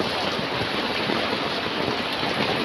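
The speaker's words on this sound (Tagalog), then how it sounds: "Mo, wala na yatang humpay na ulan ito." Heavy, unbroken monsoon rain pours down during flooding at a riverside harbor, a dense, steady hiss that fills the whole clip without pause and with no voices.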